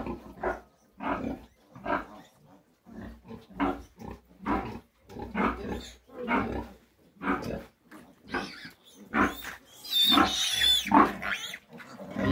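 Repeated grunts and squeals from eight-day-old piglets rejected by their mother, rhythmic bursts roughly every half second, close and fairly loud, rising into shriller squealing toward the end, with no talking.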